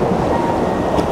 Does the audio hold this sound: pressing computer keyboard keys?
no